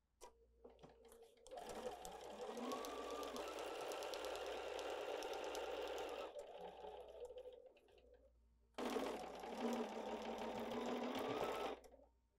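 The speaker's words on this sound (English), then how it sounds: "So let's head over to the sewing machine." A sewing machine stitches a quarter-inch seam around a fabric coaster in two sustained runs, a fast, close, even whirring with a short pause between bursts and quiet room tone around them.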